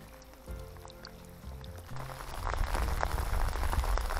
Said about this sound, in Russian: На улице ливень.